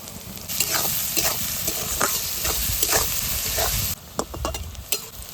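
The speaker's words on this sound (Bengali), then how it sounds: "পেঁয়াজ লাল লাল করে ভেজে নিয়েছি।" Chopped onions with whole cumin seeds and a spoon of salt fry in a pan while a spatula stirs them, giving a steady close sizzle broken by repeated scraping strokes.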